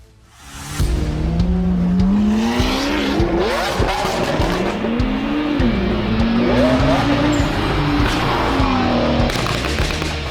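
A Chevrolet Corvette C8 mid-engine sports car accelerates hard and loud, its engine note rising steadily through the gears with some tire squeal, close by and alone without voices.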